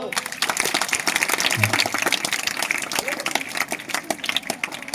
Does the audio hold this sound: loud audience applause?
yes